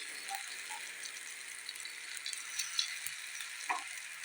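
Slices of raw banana fry in a pan over a medium gas flame, giving a faint, even sizzle with a few light clicks and taps of a utensil; no voices.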